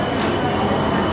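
Steady, dense rumble of a Birmingham tram running, heard from inside the car, a continuous even roar with no breaks.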